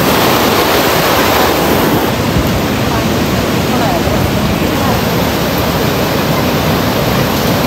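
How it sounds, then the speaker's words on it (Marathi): A fast-flowing river rushes loudly and continuously close by, with some wind buffeting mixed in. "नदीला पाणी बघ,"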